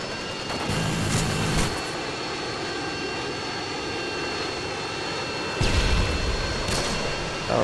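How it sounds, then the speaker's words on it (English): A Harrier jet in the game Modern Warfare 2 flies in with a loud, sustained jet-engine roar, swelling in bursts at the start and again toward the end. "Friendly Harrier's inbound."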